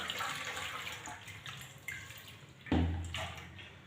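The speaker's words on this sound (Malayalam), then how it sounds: "അതിനുശേഷം നമുക്ക് വെള്ളത്തിൽ നിന്ന് കഴുകിയെടുക്കാം" Water running over a tarnished brass oil lamp during washing, a steady tap-like splash with a sharper, louder gush near the end, close by and without speech.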